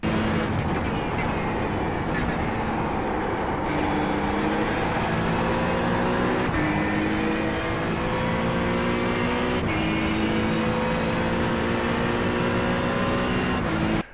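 An Acura NSX GT3 race car engine in iRacing at Watkins Glen, a loud continuous close-up drone that rises and falls through gear changes, with pitch sweeps between shifts and no talking.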